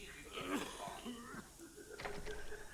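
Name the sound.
person coughing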